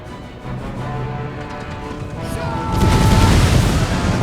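Grenadiers' grenades bursting on a battlefield in the strategy game Empire Total War, heard as muffled, rumbling booms that grow heavier and louder toward the end amid battle noise.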